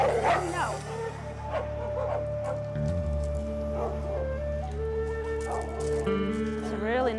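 A shelter dog barks and whimpers in short yips and whines, with people talking nearby throughout.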